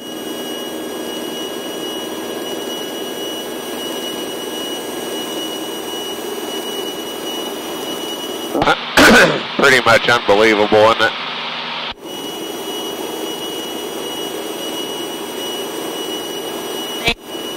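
Premier business jet on a six-mile final approach to runway 23 after Hurricane Helene, its steady engine whine droning throughout, briefly masked by a burst of close talk and radio chatter midway.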